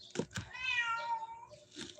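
A house cat meows once, a drawn-out tonal cry following a couple of brief thumps, close and fairly loud with no talking.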